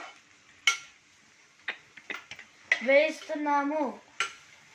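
A spoon stirs pasta in a cooking pot, making scattered clinks against the metal and a few short scraping squeaks, fairly close and fairly quiet, with no talking.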